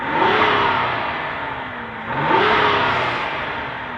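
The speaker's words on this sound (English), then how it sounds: "All I could do is hear the exhaust pushing out of the bottom of the exhaust tips" A 2025 Lincoln Aviator twin-turbo V6 SUV revs up twice, the exhaust roaring and rising in pitch, then easing off between bursts, loud and close.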